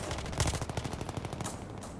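Rapid automatic gunfire in a shooter video game, a dense rattling burst of closely spaced shots running the full two seconds, loud and near with no talk.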